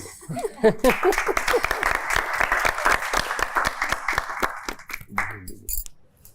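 A TV show audience applauds steadily with dense clapping after a contestant is saved from elimination. The clapping fades toward the end, and a few voices are heard.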